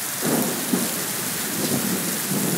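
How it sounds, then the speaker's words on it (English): A standard summer storm in Brisbane: heavy rain pours steadily while low thunder rolls underneath, continuous and enveloping with no voices. "A standard storm, standard summer storm in Brisbane."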